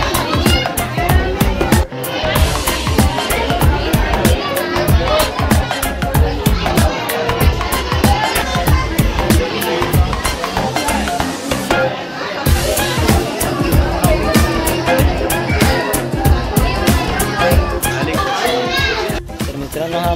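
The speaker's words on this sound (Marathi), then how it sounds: "खूप गर्दी आहे मित्रांनो." A busy aquarium museum is filled with loud, constant crowd chatter: overlapping adult and children's voices babble without pause, close by and all around.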